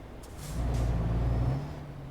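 A truck engine in Euro Truck Simulator 2 cranks and swells into a low, steady diesel rumble with an airy hiss, then settles back to a quieter idle.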